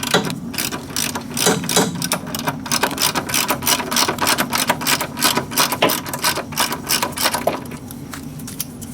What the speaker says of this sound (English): Okay, got the nut and washer off.